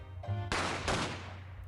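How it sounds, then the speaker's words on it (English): Two simultaneous gunshots from the Great Ace Attorney game ring out as one sharp burst after a short tone, followed by a second crack and a fading echo. "I heard a couple of shots go off, 2 I think, at the same time."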